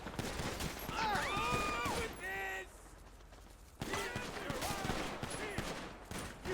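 Rapid bursts of gunfire in the video game GTA 5, with loud volleys and shots clustered in two main stretches, while excited voices talk and shout over the action.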